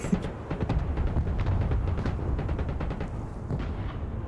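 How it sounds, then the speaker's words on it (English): Missile artillery in the war strategy game Broken Arrow fires in a dense, continuous barrage of booming launches and blasts, loud and close with no speech. "Oh, it's like a missile artillery."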